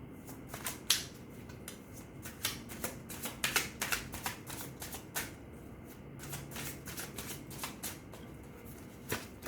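A deck of tarot cards being shuffled close by, a quiet run of crisp riffling and flicking bursts in an uneven rhythm, with no voices.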